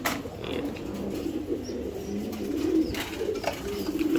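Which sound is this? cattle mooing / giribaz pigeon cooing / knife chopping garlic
giribaz pigeon cooing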